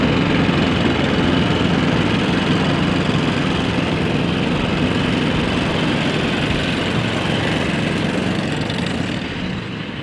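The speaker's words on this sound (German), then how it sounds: "mit dem Spindelmäher darüber zu mähen" A reel lawn mower cuts a lawn in February, making a loud, steady whirring drone that carries on unbroken throughout, with no voices heard.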